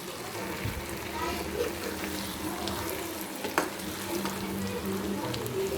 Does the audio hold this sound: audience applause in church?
no